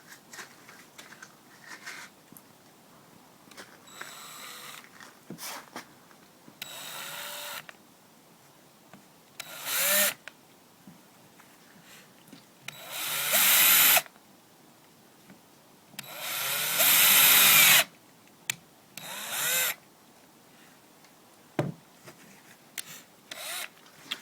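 A power drill bit presses against a glove strapped to a wooden board, giving several short bursts of rough grinding and rasping with quiet pauses between them; the bursts grow longer toward the end.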